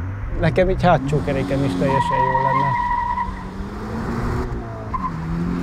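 Tires on a Subaru BRZ squeal briefly as a wheel slips, a short high chirp under engine drone while people talk in Hungarian.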